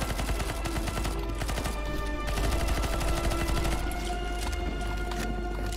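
Rapid bursts of Counter-Strike: Global Offensive gunfire crackle and pop in quick succession over a steady electronic background hum, dense and sustained throughout.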